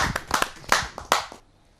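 An audience at a Hindi poetry gathering breaks into short, sharp applause for the poet Pandit Naman, a quick burst of loud claps that tails off after about a second and a half.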